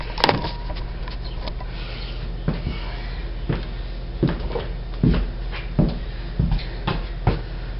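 A cold Honda ATC 200X three-wheeler on half choke is started: a steady low engine drone with a series of louder, irregular mechanical bursts over roughly eight seconds, with no talking.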